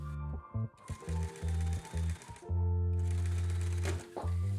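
A sewing machine runs a seam along the edge of a fabric mask in close, loud bursts, starting and stopping several times with short pauses between runs.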